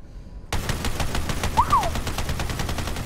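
Rapid gunfire from a new gun in the video game Borderlands 3 opens abruptly and keeps going as a fast, steady stream of evenly spaced shots, loud and close, with no talking.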